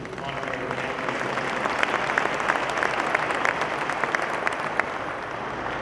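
An audience at a military honorary change of command ceremony claps in a sustained, dense round of applause, with crisp individual claps standing out and a faint murmur of voices beneath.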